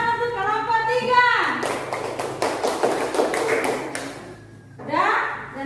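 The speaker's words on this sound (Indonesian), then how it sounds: "Tepuk tangan untuk kelompok 3." A class claps for group 3 in a classroom lesson, a dense burst of many hands lasting a few seconds, with voices speaking before and after it.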